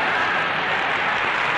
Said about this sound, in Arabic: وقد استقبلت الجماهير الضيف العظيم بالهتاف والتصفيق